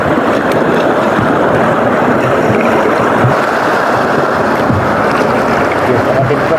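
Strong wind blows hard at a boat landing, buffeting the microphone in a loud, continuous roar with water and wave noise underneath.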